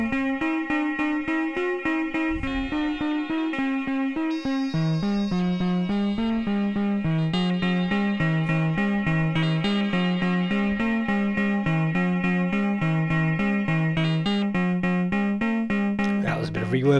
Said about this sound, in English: That was a bit of reverb there.